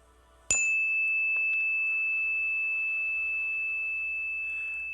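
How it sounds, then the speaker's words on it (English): A bell is struck once with a sharp attack, then its clear ringing tone hangs and slowly fades over several seconds in a quiet room. "the sound of the bell fades away"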